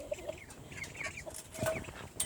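Cochin chickens, two roosters and three hens, cluck and chatter nearby in short, uneven bursts, with a few louder calls breaking through a steady barnyard background.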